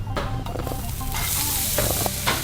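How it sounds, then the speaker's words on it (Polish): Loud, steady sizzling of onion frying in a hot pan, close up, with occasional scraping and stirring sounds. "Smażymy teraz cebulę."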